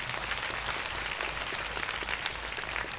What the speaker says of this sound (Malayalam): അവർക്ക് എല്ലാവർക്കും ജനങ്ങൾ കൈയടിച്ചൊരു സ്വാഗതം പറഞ്ഞു.